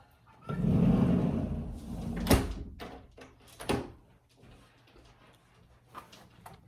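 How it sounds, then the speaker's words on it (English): A door is shut indoors, with a rustling shuffle, then a sharp clack and a second knock as it closes, followed by a few faint ticks in a quiet room. "with the door shut, maybe it'll be a little quieter"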